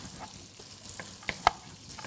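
Pancetta and chopped garlic fry in a pan with a soft, steady sizzle, quiet and close, broken by a couple of faint pops and clicks.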